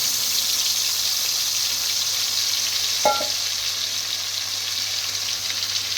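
Mustard paste with green chillies frying in oil in a pan, a steady close hiss of sizzling throughout with one brief clink partway through.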